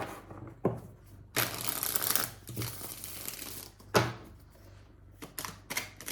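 Tarot cards being shuffled up close in several bursts of rapid riffling and flapping, separated by short quiet gaps.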